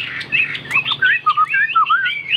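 A caged songbird chirps loud and close in a fast, continuous run of bright, warbling notes with only short gaps.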